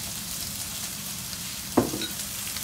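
Potatoes and chanterelle mushrooms frying in a pan, a steady soft sizzle throughout with a brief louder crackle or stir near the end.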